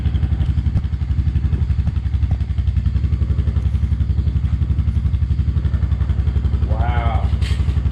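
Honda Fourtrax 300 ATV engine idling steadily just after starting, a close, even, rhythmic thrum with light mechanical clatter and a brief higher whine near the end.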